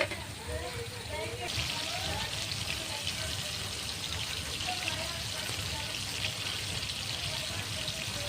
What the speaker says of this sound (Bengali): একটু আস্তে আস্তে ভেজে নিতে হবে মাছগুলো